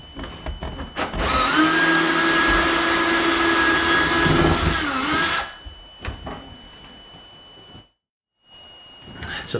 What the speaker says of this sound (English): It's a 5/16 nut driver for those hex bolts.